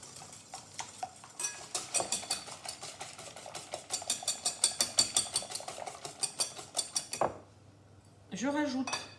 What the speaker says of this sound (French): Je fouette jusqu'à blanchiment.